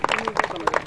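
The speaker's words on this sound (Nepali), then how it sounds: "ताली बजाउँदैछौँ" The audience at the sixth annual general meeting of the Ajambari savings and credit cooperative gives a short, dense burst of clapping, moderately loud, with a few voices mixed in.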